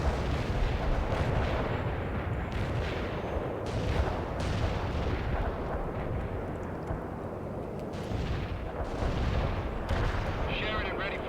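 Continuous battlefield weapons fire in the strategy game World in Conflict, with booming artillery and scattered gunshots blending into a dense, steady roar alongside rumbling vehicles.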